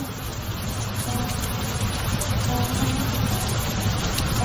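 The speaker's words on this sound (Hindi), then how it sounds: "रामू बाहर बारिश देखने चला जाता है।" Steady rain falling outside in a cartoon scene, a dense even hiss of drops continuing throughout.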